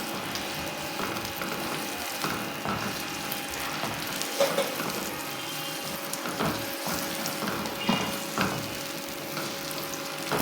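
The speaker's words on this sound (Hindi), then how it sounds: "मैं इसमें अपने अनियंस डाल देती हूँ जो मैंने काटे थे, और अब मैं इसे फ्राई कर लेती हूँ।" Chopped onions frying in oil over medium-high heat make a steady crackling sizzle up close, broken by irregular stirring scrapes and clicks, with no voices.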